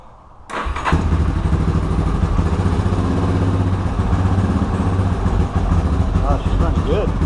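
Yamaha Warrior 350 ATV engine catching after choke and settling into a loud, steady idle close by, with a rough rumbling throb throughout.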